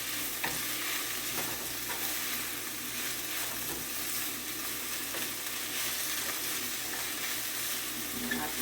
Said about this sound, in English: I just want to get my veggies cooked up